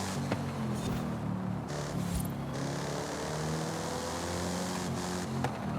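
All-wheel drive car engine in the Forza racing game, driven with a wheel controller: a steady, droning engine hum with shifting tonal harmonics and a slight rise and fall in pitch, continuous throughout.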